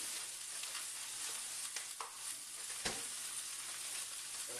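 Chuck roast browning in a hot pan, a steady faint sizzle with a few soft clicks and one sharper tap near the end.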